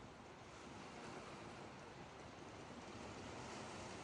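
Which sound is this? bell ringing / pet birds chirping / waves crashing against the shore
waves crashing against the shore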